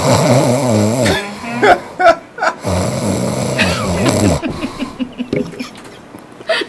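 A person imitates a snore with a run of throaty, voiced snorts and rattles, close and fairly loud, amid lively talk in a radio studio.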